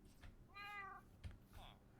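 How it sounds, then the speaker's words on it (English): A cat meows in the Minecraft video game, a drawn-out harmonic mew followed by a second shorter call, fairly quiet against low background hum. "Where did the new cat go?"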